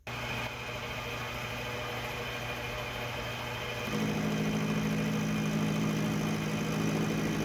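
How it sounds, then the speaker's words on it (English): A milling attachment on a machine runs continuously while cutting T-nuts, a steady mechanical drone with a mid-range hum that gets louder and deeper partway through. "This may very well be the last time you see this milling attachment in action."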